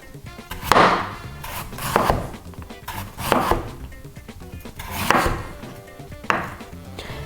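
A knife chopping vegetables on a board in slow bursts of quick, close taps, about five rounds with short pauses between.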